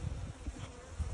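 Honey bees at an open beehive, a close, continuous low buzzing hum with no talk.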